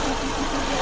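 Engine of a Nissan Serena C24 running at idle in neutral, a steady, even mid-pitched hum with no revving over the brief stretch.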